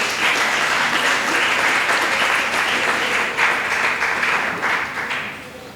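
Audience applause filling a hall during a women's discrimination forum in Kinshasa, steady dense clapping from many hands lasting several seconds without pause, loud and close.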